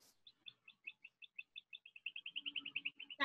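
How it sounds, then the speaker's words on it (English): A songbird outdoors sings a fast series of bright, evenly spaced chirps that speed up into a rapid trill near the end, clear and close against a quiet background, with a short burst of noise at the very end. "That bird is insane."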